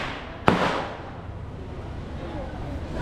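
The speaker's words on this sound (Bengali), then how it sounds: "যেখানে এসেও আমরা এই আতশবাজি ফুটানোর শব্দ" Fireworks burst at Genting Highlands in Malaysia: a single sharp distant bang is followed by a long rolling echo, then a steady open-air background hum.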